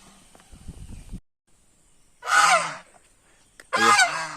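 Loud, harsh honking calls from a flock of ducks burst out twice, each lasting under a second, after a brief low rumble.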